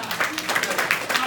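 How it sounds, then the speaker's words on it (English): An audience claps during a presentation, with dense, brief applause over a short stretch and speech mixed in. "let's give him a round of applause"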